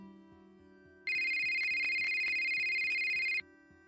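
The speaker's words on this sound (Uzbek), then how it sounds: "Tianjindan yana telefon keldi." A telephone rings with a single sustained electronic tone burst lasting a couple of seconds, clear and close, over a quiet rhythmic ticking background.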